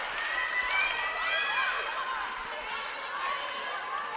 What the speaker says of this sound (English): Very vocal crowd here inside the Merrill Center.